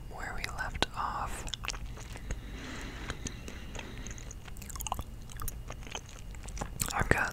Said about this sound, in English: I've got some watermelon gum I'm working on in this episode.